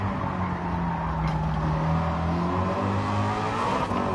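A roughly 1400-horsepower turbocharged race car in Gran Turismo 7 drones loudly and steadily at high revs, its engine tone wavering slightly as it pulls through the gears, with a faint tire squeal.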